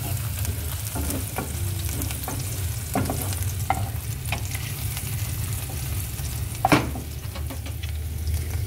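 Garlic toasting in a pan until golden brown, a continuous close sizzle with scattered crackles and sharp spatula scrapes, one louder clatter near the end, no talking.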